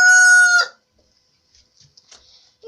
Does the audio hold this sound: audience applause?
no